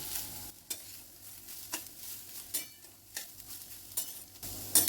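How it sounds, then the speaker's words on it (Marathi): Grated beetroot being sautéed in ghee in a kadhai over a very low flame, a soft sizzle under repeated scraping strokes of a spatula, with a louder clatter near the end. "इथे आपण बिटाचा किस करून घेतलाय, तो टाकून घेऊ. आणि गॅस एकदम बारीक केलेला आहे आणि किस परतून घेऊया आपण."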